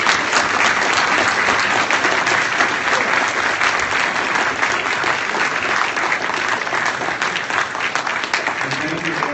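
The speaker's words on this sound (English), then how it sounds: "everyone give a round of applause for Ben Shapiro" A large crowd at a Ben Shapiro event breaks into loud, sustained applause, a dense, even roar of clapping that continues for several seconds, close and full, with some crowd noise mixed in.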